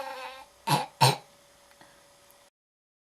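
Two harsh, close coughs in quick succession, like a smoker's chronic cough, follow a brief stretch of background tone and then fade into silence.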